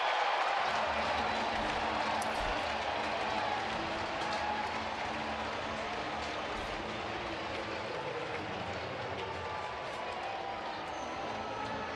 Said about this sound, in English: you heard the crowd. They were excited about a strikeout